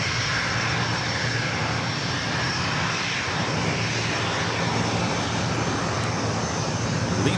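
A Bombardier Global 5000 business jet roars at LAX in a steady, loud, broadband engine wash that holds unbroken throughout, with no voices over it.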